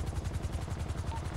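A helicopter in GTA V sets down, its rotor thumping in a steady fast chop close by, with the beat running evenly through the whole stretch.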